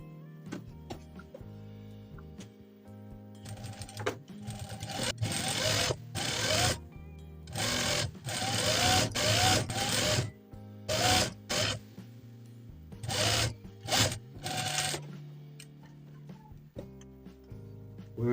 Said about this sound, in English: we fold this into two, and then we stitch on the waistline